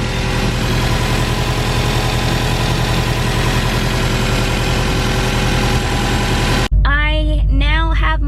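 A car engine idles steadily after being started again following long disuse, with its check engine light on. The hum is loud and continuous for several seconds, then cuts off abruptly as a voice starts talking.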